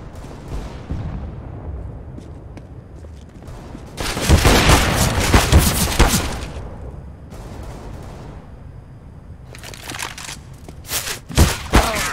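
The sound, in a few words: grenade thrown and exploding in video game CS:GO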